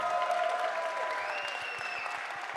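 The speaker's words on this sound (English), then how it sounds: "So let's give them another round of applause" Applause from the audience at a live podcast show, steady clapping filling the room with a few whoops rising over it before it starts to thin out.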